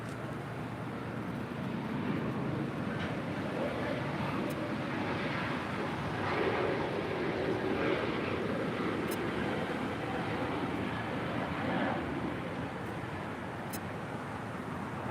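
Delta Connection Embraer E175LR airliner arriving at LAX from Salt Lake City, a steady broadband roar of engines and air rushing that holds fairly even for about fifteen seconds, with no voices.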